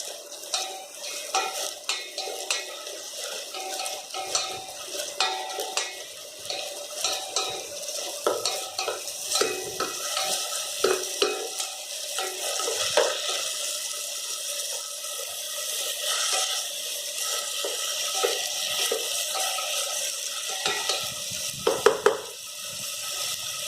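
Macaroni masala sautéed in a pan, with steady sizzling and repeated scraping stirs of a utensil in an irregular rhythm, close and fairly loud, a few sharper clatters near the end, no talking.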